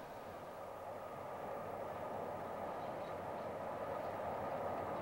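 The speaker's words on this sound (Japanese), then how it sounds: "列車はミラノを過ぎ、" A train passing Milan rolls steadily along the rails with a constant, even rumble and hum, growing slightly louder, with no voices.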